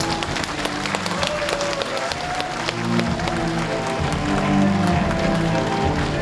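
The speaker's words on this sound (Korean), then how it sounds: "여러분 큰 박수로 시장님 모시겠습니다" An audience at a talk concert marking the Andong mayor's second anniversary in office claps steadily to welcome the mayor onstage, the sustained applause mixed with background music.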